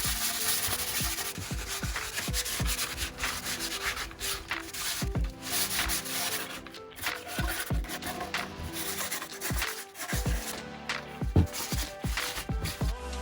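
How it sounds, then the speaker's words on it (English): A moose shed antler being sanded down after wood filler has gone into its cracks, producing continuous close, steady rubbing and abrasive scratching with a rhythmic back-and-forth texture that runs throughout, with no talk. "I went through and I sanded down the whole antler again"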